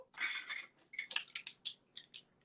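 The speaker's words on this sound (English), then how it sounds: "I am using my handy dandy measuring spoons here" Metal measuring spoons clink and tap in a quick, irregular run of light, bright strikes while baking powder is measured out for vegan chocolate chip tahini cookies; close and fairly quiet, with no talking.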